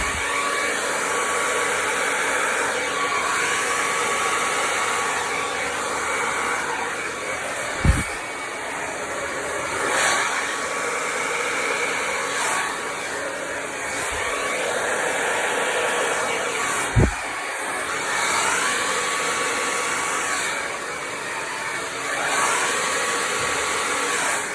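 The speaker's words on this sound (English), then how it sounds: "take my blow dryer and I'm going to blow it out in different directions from the center" Hair dryer blowing steadily at paint during a Dutch pour acrylic pouring session, a constant loud close whoosh with a couple of brief knocks, no voices.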